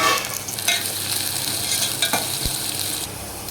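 Onion and green chilli fry in a pan for brinjal fry, giving a continuous bright sizzle broken by a few scraping stirs. It is close and steady, with no voices.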